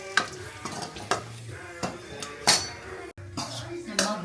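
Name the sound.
frying cashews and raisins in ghee, stirring in a pan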